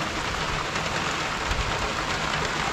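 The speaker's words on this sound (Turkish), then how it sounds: "Yoksa ki buralara da yağıyor." Steady, heavy rain hisses continuously across the whole clip in a village, a dense even wash of sound with no voices.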